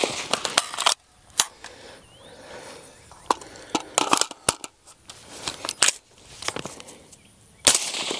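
Sharp, loud rifle shots fired through a Franklin Armory binary trigger, which fires on both pull and release, come in irregular bursts and pairs with short quiet gaps between them, close by and outdoors.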